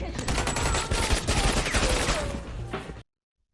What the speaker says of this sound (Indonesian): Tembakan bergema di seluruh area